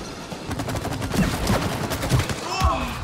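Sustained rapid gunfire aimed at a shield in the video game It Takes Two, a steady stream of closely spaced shots with game effects and voices talking underneath.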